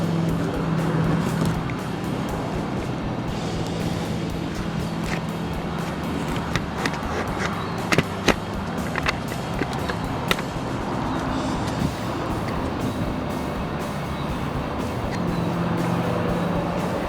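A stock Volkswagen Corrado being driven outdoors, a steady engine and road rumble running throughout with a few sharp clicks and knocks over it, fairly loud and close.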